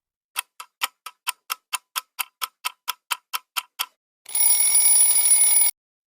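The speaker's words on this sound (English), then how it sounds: "Let the timer begin." A timer ticks in a steady run of about fifteen sharp, evenly spaced clicks, then a loud continuous electronic alarm rings for over a second before cutting off.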